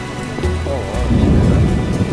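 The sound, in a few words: heavy rain downpour with thunder in video game The Witcher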